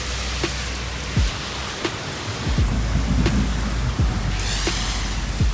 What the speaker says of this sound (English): we got caught in the rain